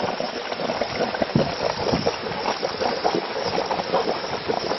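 Water boils and gurgles steadily in the Inferno Crater lake, a volcanic crater in New Zealand, a dense continuous bubbling and churning heard up close with no talk.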